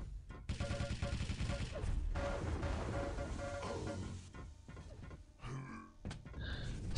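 Rapid weapon fire and explosions in a Quake Live grand final match, dense and loud continuous bursts of gunfire and blasts with game effects, under faint commentary.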